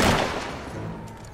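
A gunshot in the video game Fable 3, a sharp loud blast at the start that fades into a rumbling tail over about a second, with game background sound behind it.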